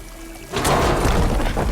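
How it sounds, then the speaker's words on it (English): Water pours down a vent in the video game Horizon Forbidden West, a steady broadband rush that begins suddenly after a quiet moment and keeps flowing loudly to the end. "Water's coming down that vent."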